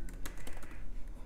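A few quick keystrokes on a computer keyboard during design work, soft clicking taps in a brief burst, close and quiet with no talking.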